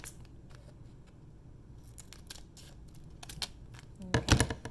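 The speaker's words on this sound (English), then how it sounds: "So we're going to cut open the package." Scissors snip through a mailed package holding nail polish strips: a run of quiet, scattered crisp cuts and crinkles, building to a louder cluster of rustling, tearing cuts at the end, close by with no talking.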